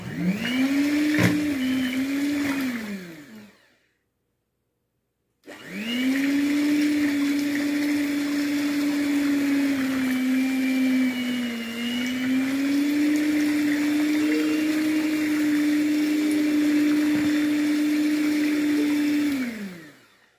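Electric mixer beating cream cheese in a bowl, a loud steady motor whir that stops briefly for a couple of seconds, then runs on evenly until near the end.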